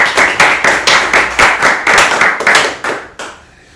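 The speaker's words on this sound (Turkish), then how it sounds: "Alkış." Rhythmic clapping at a Turkish game-show challenge, about a dozen crisp, evenly spaced claps close by, fading out toward the end with little else audible.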